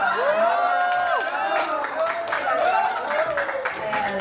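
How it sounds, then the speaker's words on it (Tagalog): A crowd at a birthday celebration clapping and cheering, with the applause mixed under excited shouts and voices throughout. "Ako may pinakamalakas na palakpak."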